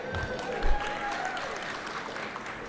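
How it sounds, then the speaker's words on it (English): A conference audience in the Dallas area applauds at a plenary session, a steady spread of clapping over a few seconds with one brief louder thump partway in. "Yeah, you can applaud for that."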